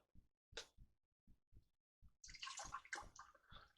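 Distilled water poured from a one-gallon jug into a countertop water distiller: a few short splashes and knocks, then a fuller gurgling pour near the end, close and fairly quiet.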